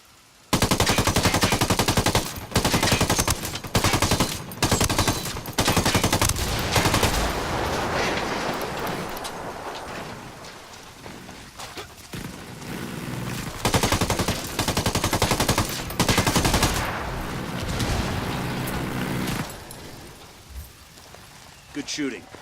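Bursts of automatic gunfire in the tactical shooter Ghost Recon Wildlands, loud rapid volleys starting and stopping repeatedly with short gaps, fading toward the end into a quieter, rain-like rattle.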